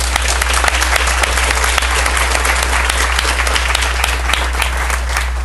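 Loud, dense applause from a big audience in a tent at a veterans' award ceremony, sustained clapping at an even level throughout with a low steady hum underneath.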